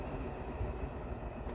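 A Norfolk Southern freight train passes at night, giving a low, steady rumble of rolling wagons at moderate distance, with a brief higher squeal near the end.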